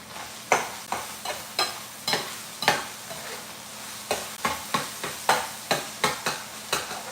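Leftover beef and vegetables are stir-fried in a hot pan, heard as a steady sizzle broken by a regular run of sharp scraping strokes about twice a second, close and clear with no talking.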